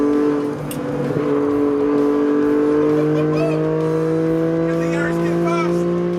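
Racing cars, a 335-horsepower Toyota Supra, a GT86 and a Yaris, drone steadily on a track, engines holding sustained tones that shift slowly as they run close together beneath continuous commentary-style talk.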